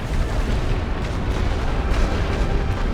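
Continuous rumbling barrage of artillery and gunfire in a Great War Western Front battle game, with dense overlapping booms and blasts, steady and loud throughout, no talking.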